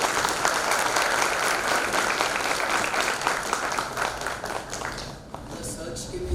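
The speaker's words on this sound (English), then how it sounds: "loud applause." Loud, sustained applause from a seated audience of conference participants at a tax event, with steady dense clapping that thins slightly near the end while a voice speaks over it.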